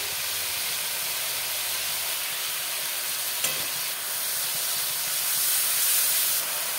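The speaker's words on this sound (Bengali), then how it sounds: "দেবো অল্প জল, মশলাটা কষাবো" Spice paste of cumin, turmeric and coriander powder sizzling in a pan with a splash of water, a loud, steady hiss of steam and frying, close up and continuous.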